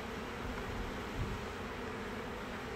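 A swarm of honeybees being caught off a small tree trunk gives a steady, dense buzz that fills the scene without a break, close and moderately loud, with no voices over it.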